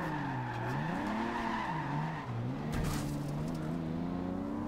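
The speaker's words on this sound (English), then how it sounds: "Okay, let's try and get this drifting." Nissan Skyline 2000GTR in Forza Horizon 2 drifting, its tires squealing in a continuous wavering whine over a steady engine drone, loud and unbroken throughout.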